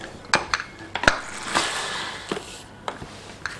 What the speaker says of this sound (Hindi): कुकर का ढक्कन लगा देंगे।